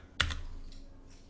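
A computer keyboard being typed on, a brief cluster of clicky keystrokes followed by a couple of fainter key taps, close and quiet with no talking.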